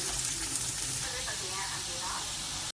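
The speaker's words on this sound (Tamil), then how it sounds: "வெங்காயத்தை வந்து போட்டு வதக்க போகிறோம்" Onions sizzle and hiss steadily in hot oil, a bright continuous crackle close up.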